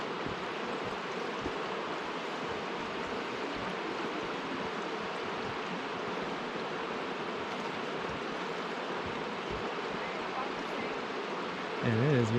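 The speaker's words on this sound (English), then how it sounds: "Here's the Hoh River off of the trail." The Hoh River flows beside a forest trail in Olympic National Park, a steady, broad rushing of water heard at moderate distance and continuous throughout, with a brief voice near the end.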